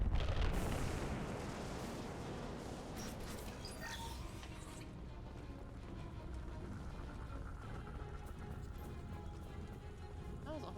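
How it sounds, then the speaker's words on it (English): A big gun firing in a video game, a heavy booming blast up front that rolls into a long, dense rumble, staying loud throughout without any voice. "I have 2 shots left. Nobody panic. And then I have to use a big girl gun."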